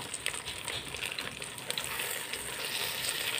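Fish frying on a banana leaf in a hot pan as the pieces are turned over, a loud continuous sizzle with small crackling bursts, close up and with no talking.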